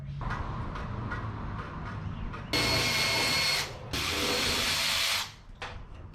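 Mechanical work pulling the radiator out of a 1977 Datsun 620 pickup: clanks and taps, then two long loud bursts of a power tool or ratchet, each lasting over a second, close by and with no talk.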